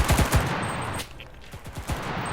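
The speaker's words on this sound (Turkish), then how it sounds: "Oğlum bana sıkıyor, bana sıkıyor, bana sıkıyor." Rapid bursts of gunfire from the online shooter game CRSED, several quick volleys of shots near the start and again after a short lull, loud and close with no talking over them.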